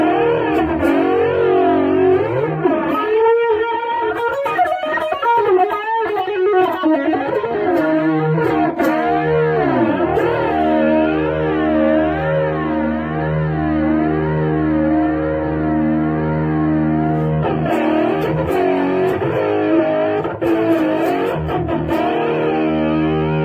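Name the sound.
guitar phaser effect on Sonicake multi-effects pedal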